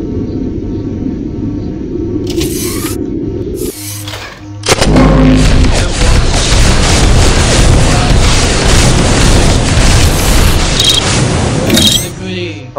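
Explosives shot and blowing up in a first-person shooter video game, a loud sustained blast and rumbling burst of noise breaking in after quieter game sounds and lasting most of the clip.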